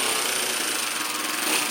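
A motor and manual gearbox in a Toyan RC crawler kit strain in high gear. A dense, buzzy, continuous mechanical whir plays close and loud throughout, without speech.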